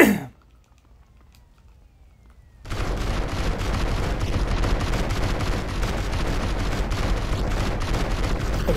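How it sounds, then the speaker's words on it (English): Vehicles explode in GTA San Andreas Definitive Edition. After a near-silent pause, a sudden loud, dense barrage of blasts and crackling bursts runs on without a break. No voices. "I forgot how fast those things explode now."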